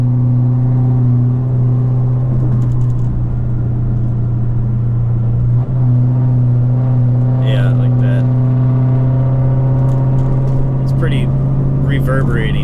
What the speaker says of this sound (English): there's a good chance that you can't even hear me over the exhaust